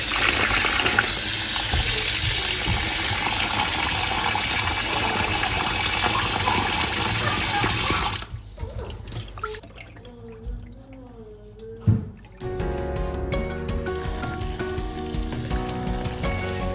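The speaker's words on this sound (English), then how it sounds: "we are going to wash our rice." Rice for Ghanaian beef jollof is washed under running water, a loud continuous splashing and rushing that stops briefly, giving way to quieter swishing and trickling before the flow resumes.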